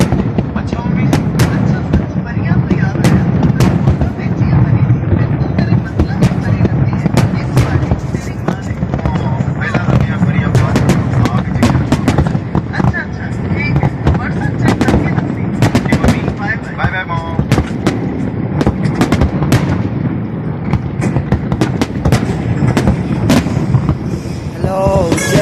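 Fireworks burst continuously over Dubai, a dense, loud barrage of sharp cracks and booms with no gaps, overlapping like rapid gunfire, while crowd noise and voices run underneath.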